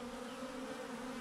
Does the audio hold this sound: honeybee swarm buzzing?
yes